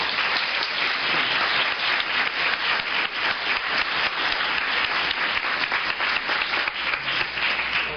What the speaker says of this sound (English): please release your hands to applaud for our journalists who have taken time out of their busy days